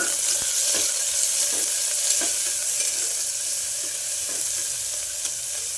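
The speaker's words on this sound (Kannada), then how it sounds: "ಈರುಳ್ಳಿ ಚೆನ್ನಾಗಿ ಫ್ರೈ ಆಗಬೇಕು," Chopped onions and green chillies fry in hot oil, a dense, continuous close sizzle broken by repeated stirring scrapes, loud and steady throughout without speech.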